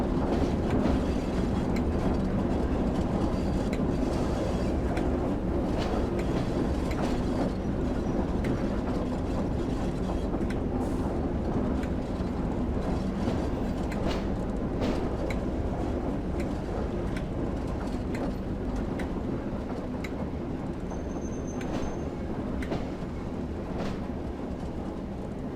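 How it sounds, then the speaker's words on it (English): A Class 08 shunting locomotive in the Train Sim World 2 game rolls along rails with a continuous mechanical rumble and repeated clanking, ratcheting clicks, steady and moderately loud with no talking. "And then the train comes and picks them up"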